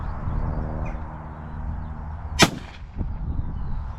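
A single sharp shotgun blast, fired at crows and pigeons in the UK countryside, cracks out once mid-clip over a steady outdoor rumble, with a faint echo trailing after it.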